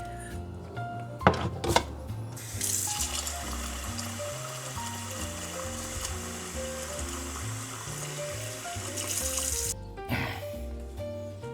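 Tap water runs into a pot of beef bones for Filipino bulalo soup, a steady gushing and trickling stream with a few sharp clanks near the start and near the end.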